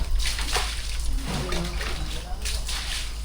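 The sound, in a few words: water splashing while rinsing with lots of water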